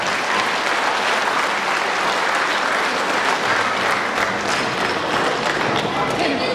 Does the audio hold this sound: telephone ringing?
no